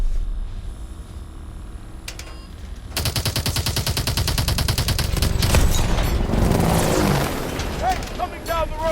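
Call of Duty: Advanced Warfare combat erupts into sustained rapid gunfire after a quieter opening, dense overlapping shots with booming impacts, voices calling out underneath.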